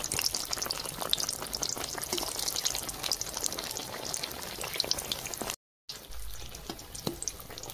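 Potato chops fry in hot oil with a steady, dense crackling sizzle throughout, close and moderately loud, with a brief silent cut near the end and no voices.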